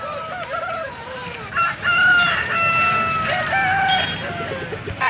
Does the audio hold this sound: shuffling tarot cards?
no